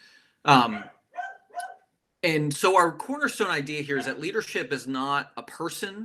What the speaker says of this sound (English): So please excuse my dog barking in the background.